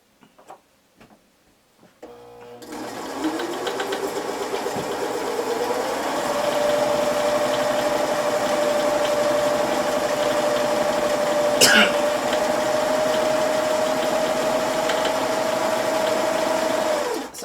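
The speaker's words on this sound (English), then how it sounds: "any day you're sewing with your serger and you're using it is a good day" A serger sewing a flatlock seam on a table runner runs as a steady, fast mechanical whir with a ticking stitch rhythm. It starts after a few seconds of quiet handling, holds a constant pitch close by, and carries on to the end without talk.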